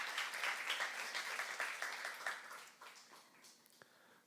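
A church congregation applauds together, a dense wash of clapping that holds steady and then gradually thins and fades out.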